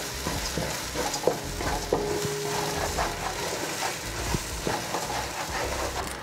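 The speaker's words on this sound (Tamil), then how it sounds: "இந்த உள்ளி, இஞ்சி, பச்சை மிளகாய் கொஞ்சம் பொரிஞ்சு ஃப்ளேவர் வரணும்." Garlic, ginger and green chillies fry for a large batch of chicken fried rice, hissing and sizzling steadily in hot oil while a utensil clacks and stirs against the pan in irregular knocks.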